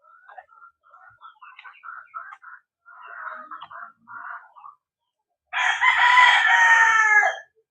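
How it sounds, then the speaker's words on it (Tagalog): Hens cluck and chatter in short bursts, then a rooster lets out one long, loud crow near the end. "Kaingay ng manok."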